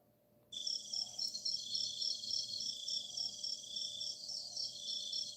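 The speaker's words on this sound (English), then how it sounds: "We're going to put some crickets here," Crickets chirp as a sound effect played during a livestream: a loud, continuous high trilling starts suddenly and runs on steadily with a faint hum beneath.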